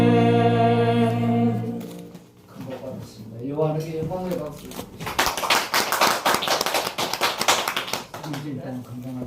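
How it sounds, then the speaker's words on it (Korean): Church congregation at a Sunday service breaking into applause after a hymn ends, a dense loud clapping that swells in and continues, following a sustained sung note and a spoken voice. "요한에게 영광의 박수"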